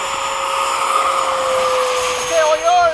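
A Freewing 90mm F-15 model jet takes off at a flying field, its ducted fan a loud, steady high whine that rises and wavers near the end, with voices nearby.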